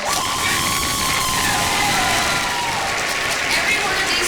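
A theatre audience at a school production of Newsies applauds and cheers for the director, with a dense, sustained wash of clapping, shouts and whoops filling the room throughout.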